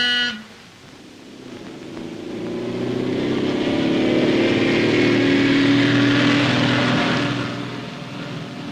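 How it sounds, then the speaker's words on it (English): Mail car from the 1940s driving on a Scottish Highland road near Lairg, the engine rising from a low idle to a steady, moderately loud drone, then easing slightly at the end. "But now we have the mail car."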